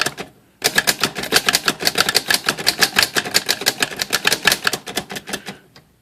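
A Corona 4 typewriter types in a steady, rapid run of sharp keystrikes, close and loud, for about five seconds after a brief opening click, with no talking.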